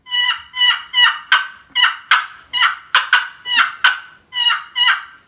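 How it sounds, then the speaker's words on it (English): A Wilper box turkey call plays a yelp mixed with cutting: a string of about a dozen sharp, raspy, high clucks and yelps in uneven bursts, close and loud with no other sound. "This is yelp and cutting."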